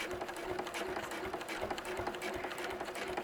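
A sewing machine stitching a quilt, its needle running in a fast, steady mechanical rattle that holds evenly from start to finish, fairly quiet and close, with no talking.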